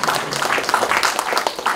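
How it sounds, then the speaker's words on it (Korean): Audience at a literary award ceremony and book launch giving a short round of clapping, brisk and fairly close, with a voice faintly underneath. "여러분 축하의 박수 주시기 바랍니다"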